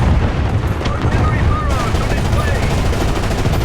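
Tank guns firing anti-air rounds in the War Thunder video game, a dense, continuous rattle of rapid gunfire and booming impacts running loud and steady throughout.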